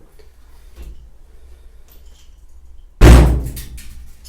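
Steel door of a 1964 Mk1 Mini shell during restoration swings shut with a single loud, sharp slam after a few seconds of quiet workshop shuffling.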